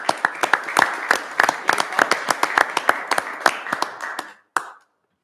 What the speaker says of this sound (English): I'd like to have a little round of applause for the ones that got elected.